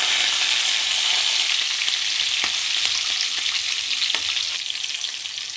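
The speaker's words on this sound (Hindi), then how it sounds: "मैं सिंगदाना अच्छे से भून गया, अभी हम लोग डालेंगे थोड़ा सा हरी मिर्ची" Peanuts roast in a pan with green chillies, giving a loud, steady frying hiss with a few sharp clicks of stirring scattered through, close up and with no voices.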